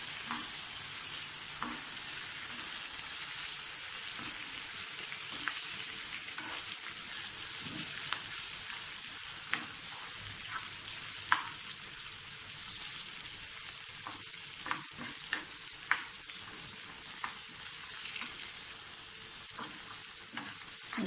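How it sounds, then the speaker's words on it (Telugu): Tomato pieces with turmeric fry in a pan, a steady soft sizzle broken by frequent light stirring scrapes and clicks, close and even throughout with no talking. "అండ్ టమాటో ముక్కలు, పసుపు ఇవన్నీ వేసేసి నీట్గా కొద్దిగా ఫ్రై అయ్యే వరకు వేసేస్తున్నాం."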